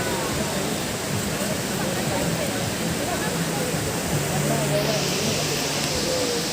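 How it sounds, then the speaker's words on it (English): A continuous broadband rush of falling water from the Kanchenjunga waterfall in West Sikkim, steady and fairly loud, with faint voices mixed in beneath the roar. "the Kanchenjunga waterfall is towards the right"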